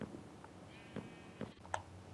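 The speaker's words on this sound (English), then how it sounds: "Time to add the sheep." Sheep bleating in Minecraft Bedrock Edition 1.21, a few short bleats spaced out over quiet game ambience as animals are herded into a wool farm pen.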